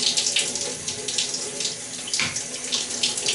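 A wobbly handheld shower on an unsteady holder runs steadily in a bathroom, spraying water in a constant close hiss with a brief splashing surge partway through; no one speaks.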